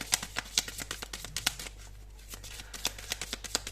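Tarot cards are shuffled and drawn by hand, producing quick, crisp riffling snaps in uneven bursts, close and fairly quiet with no talking.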